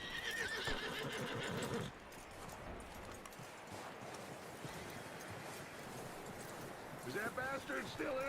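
A horse in the Red Dead Redemption video game whinnies loudly at the start and again near the end, with hoof clip-clops and faint talk in between.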